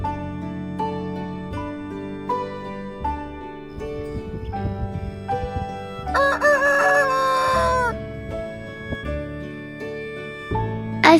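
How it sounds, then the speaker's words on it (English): A hen clucks loudly over a melodic backing tune in a children's alphabet song, a drawn-out cock-a-doodle-doo rising and falling in the middle. "H for hen."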